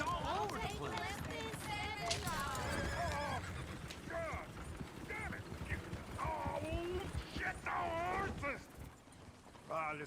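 Horses in Red Dead Redemption 2 whinny and neigh repeatedly while hooves clip-clop beneath, a busy stretch of several calls close by with talk mixed in.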